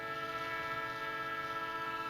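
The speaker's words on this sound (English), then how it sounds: "As midnight approaches, the last tram of the Hinakata to Sokoto rattles." Late-night tram on the last run toward Sokoto, a steady continuous rumble with sustained tonal hum and rattle, fairly close and alone with no talk.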